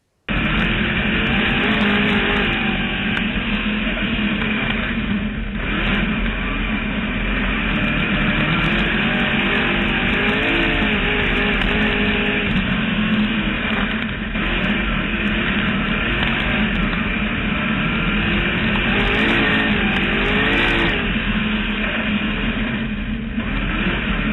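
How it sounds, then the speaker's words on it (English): Race cars at Humboldt Speedway during a USMTS night race roar continuously and loudly for the whole stretch, engine drone swelling and fading as cars pass, with no talk over it. "we are here at Humboldt Speedway tonight for the USMTS races"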